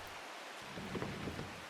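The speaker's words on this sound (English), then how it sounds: "Yeah, different rain sounds." Steady, soft rain in the video game Strange Horticulture makes a continuous hiss with faint low rumbling and no voices.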